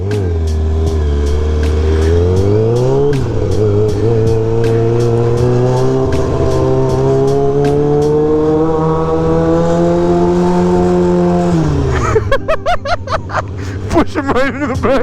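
A car engine holds a loud, sustained rev that climbs in pitch as it accelerates for about twelve seconds, then cuts off into scattered clatter and voices.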